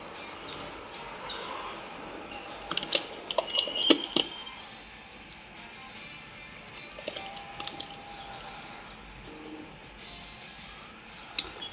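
Light, scattered tapping on a computer keyboard against a steady background hum, with a brief busier run of keystrokes; faint and somewhat distant, no talking.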